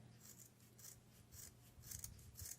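Scissors, their blades sticky with glue, snip through a tassel for fall decor: a series of crisp, close, quiet cuts with a rasping edge, about five strokes in a loose rhythm, with no voice.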